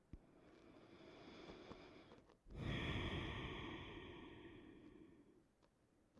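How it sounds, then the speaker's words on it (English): Slow nasal breaths during an earth-element yoga session, a long soft exhale fading out, then after a brief pause a louder inhale-exhale swell that tapers gradually, close and unhurried with no talk. "Breathing in and out through the nose."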